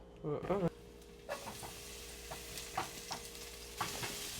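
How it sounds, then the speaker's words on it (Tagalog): Oil for sopas sautéing in a home kitchen pan, with brief sizzles and stirring scrapes recurring at irregular intervals, moderately close; a short burst of talk comes at the start. "Gisa-gisa lang yan."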